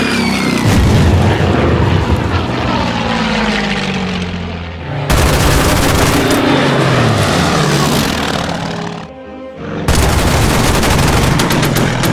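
Loud World War II aircraft engines roaring over a battlefield in the strategy game Order of Battle WW2, with sustained propeller drone, heavy gunfire and explosions layered throughout, briefly cutting between dense combat passages.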